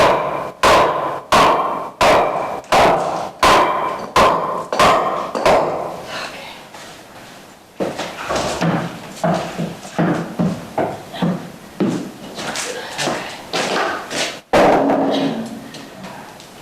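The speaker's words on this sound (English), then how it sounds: "Hammer that in a little bit more." A long run of loud, evenly spaced hammer blows on wood, close up, steady at first and then coming in quicker bursts, while repairing stairs in a 1950 church renovation.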